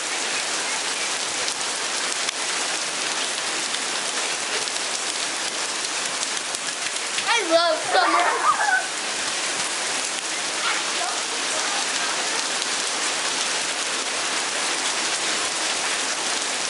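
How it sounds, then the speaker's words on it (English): Heavy summer rain pours down steadily in the open, a dense continuous hiss throughout, with children playing and a brief burst of voices and splashing in the middle. "It has now started raining on us"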